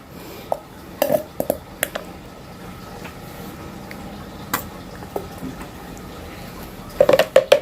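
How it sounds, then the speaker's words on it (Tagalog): Coconut oil and sulfonic acid stirred together for homemade laundry soap, with scattered clinks and scrapes of a utensil against a container, a few sharp knocks near the start and a quick cluster near the end. "i-mix natin haluin yung mabuti na maghalo ang coconut oil at saka ang sulfonic acid"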